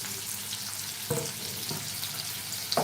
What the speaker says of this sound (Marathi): आता याच्यामध्ये आपल्याला एक बारीक चिरलेला कांदा घालायचा आहे